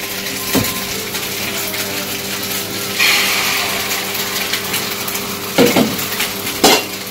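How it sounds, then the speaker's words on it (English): Food stirred with a spoon in a hot pan just before egg goes in, Chinese-style home cooking: a steady sizzling hiss broken by a few sharp metallic clinks of the utensil against the pan, with no talking. "I'm just going to stir it around a little bit, and then we're going to add our egg"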